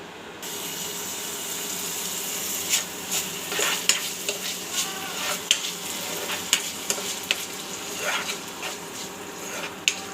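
Potatoes frying in a pan on a home stove, a soft continuous sizzle with scattered clinks and scrapes of stirring, fairly quiet and close, with no talking.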